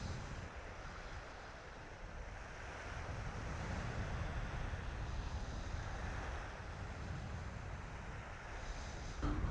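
Sea waves wash continuously onto the shore while wind buffets the microphone in a dense, steady roar, with no voices.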